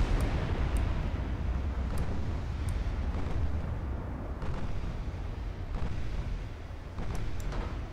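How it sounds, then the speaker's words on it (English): 8-inch naval guns firing in Ultimate Admiral Dreadnoughts, heard as a distant rumbling barrage with occasional sharper reports cracking through a steady roar of sea and battle ambience. "The 8-inch guns are just firing away at the light cruiser over there."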